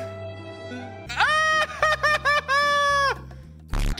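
Chickens in the video game Destiny 2 cluck and crow loudly and up close, several sharp harmonic calls in quick succession over a low steady drone, with a final brief squawk.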